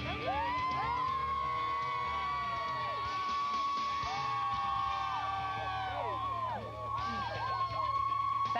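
A morning crowd at Rockefeller Plaza cheers and whoops at a live Today Show broadcast, with high shrieks rising and falling over steady crowd noise and some talking mixed in.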